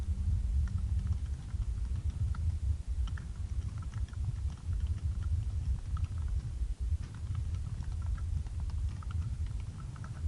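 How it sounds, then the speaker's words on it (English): Rapid, irregular clicking of keys on a computer keyboard continues for about ten seconds under a dull low background hum, close and moderately loud, with no talking. "My typing is not on point."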